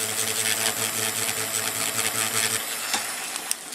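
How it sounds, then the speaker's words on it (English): Sandpaper rubs a small plastic cube part for a Fangshi Shuangren CPM modification, close and rhythmic strokes with a faint motor-like whir, then a few light taps. "Sand a little bit more down."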